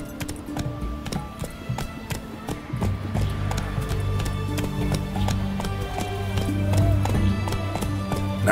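Hoofbeats of the horse Roach galloping in The Witcher 3 game, a steady rapid clip-clop over a low rumbling background, with no talk.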